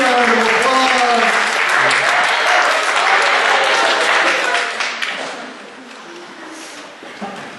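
A banquet crowd gives loud, sustained applause at a recognition event, with voices and cheers mixed in. The clapping fades over the last few seconds.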